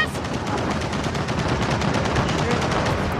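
A gun turret firing in the Gears of War 4 video game, a loud, rapid, unbroken stream of machine-gun shots hammering close and steady throughout.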